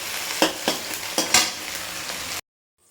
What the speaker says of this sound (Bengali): এই যে পেঁয়াজের সাথে আমি আলুটাকেও সুন্দর করে ভেজে নিয়েছি